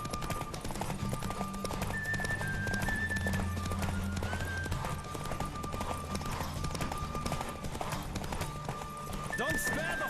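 A horse gallops hard in a race in the video game The Witcher 3: Wild Hunt, its hooves drumming in rapid, continuous rhythm. A whinny and voices are heard over a steady backdrop of game noise.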